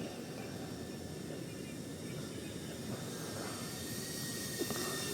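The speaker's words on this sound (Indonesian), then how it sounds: "Oke, drone-nya datang lagi." An FPV drone flies back toward its pilot in open country near rice fields, its buzzing motor drone a steady whirring hiss that holds level throughout and swells slightly nearer at the end.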